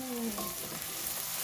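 Tenderised mutton pieces sautéing briefly in a pan for Kashmiri milk mutton curry, a short burst of steady close sizzle with a faint tonal squeak near the start.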